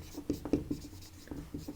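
Chalk or marker scratches on a board in short, quiet strokes with irregular pauses, close and alone.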